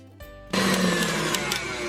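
A stand mixer's whisk beats a marshmallow mixture for homemade strawberry candies, starting up after a brief pause into a steady, loud, continuous mechanical whir that fills the kitchen without letup.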